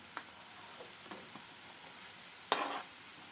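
Carrot and onion frying in a pan for rassolnik soup, a faint soft sizzle with a few light clicks, then a brief louder burst of sizzling as something is tossed in near the end.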